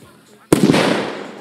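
A sharp, loud launch bang from a fireworks launcher at a pyrotechnics meet in Słubice, followed by a long rushing, crackling tail that slowly fades.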